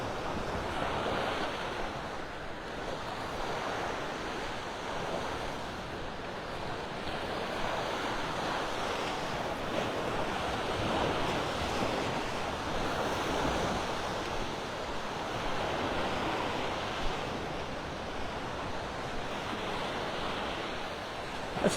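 Surf rolls onto the beach at Delnor-Wiggins in North Naples, Florida, a continuous broad wash of breaking waves mixed with wind buffeting the microphone, steady throughout with no voices.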